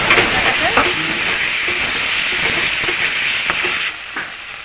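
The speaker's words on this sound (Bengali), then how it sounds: "এবার এই জল ঝরা ডালটাকে দিয়ে দেবো মশলার মধ্যে আবার একটু নেড়ে চেড়ে কষ্ট নেবো ডালটা সাথে" Soaked, drained moong dal tipped into frying spices and stirred, with a steady loud hiss and sizzle and scattered scraping stir clicks, easing slightly quieter near the end.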